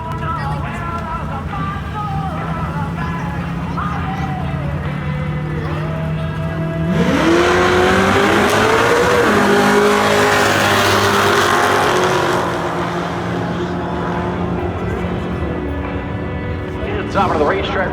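A Dodge muscle car doing a burnout at a drag strip, the engine droning steadily and then rising into a loud, rough roar of revving and tyre noise before settling back down, with a voice talking over it.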